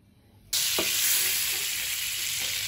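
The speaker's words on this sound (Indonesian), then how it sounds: "Jadi pertama kita tumis mentega." Butter hits a hot pan and bursts into a loud, steady sizzle for sautéing shrimp, the frying hiss continuing unbroken with a brief clink of a utensil.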